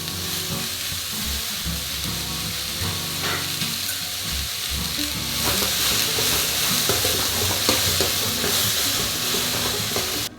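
Onions sauté for a Tamil-style mutton curry with a constant, loud sizzle and steamy hiss, with occasional stirring scrapes against the pan.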